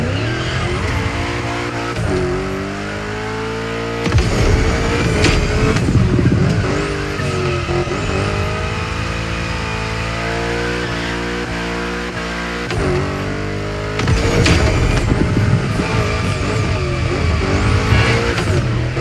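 Cars drifting in the racing game The Crew Motorfest make loud, sustained engine revs that climb and fall, with tire squeals and skids bursting in at several points, going on continuously throughout.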